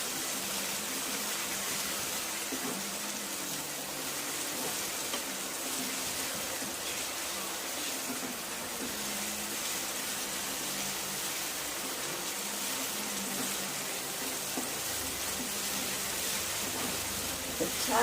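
Onion and tomato sizzling in oil in a pan for Indian cauliflower bhaji, a steady, even hiss of frying that continues unbroken throughout, with no pauses.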